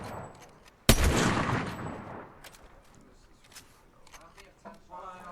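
Gunfire in the video game Fortnite: one sharp loud blast followed by a decaying tail, then scattered fainter distant shots and clicks, with a voice talking underneath.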